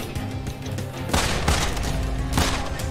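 Rapid video game gunfire bursts from shots fired in mid-air, a dense crackling volley with sharp loud onsets around the middle and end over a steady game background.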